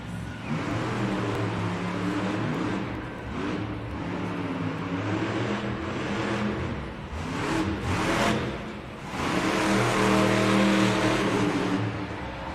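Velociraptor monster truck racing in an indoor arena at Monster Jam, a loud engine roaring and revving in surges over a dense crowd and arena roar, no clear talk.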